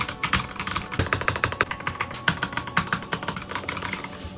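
A Skylong GK75 75% hot-swappable mechanical keyboard with Glacier Red switches clacks in fast, even typing, each keystroke crisp and close, a steady run of clicks with no talking.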